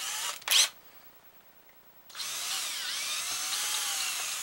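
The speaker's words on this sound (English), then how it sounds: "We'll drill a pilot hole, then we'll drill our 7/64 just like always." A power drill whirs briefly, pauses, then runs steadily for a couple of seconds drilling a pilot hole, its high-pitched whine close and fairly loud.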